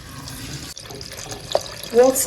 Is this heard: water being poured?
yes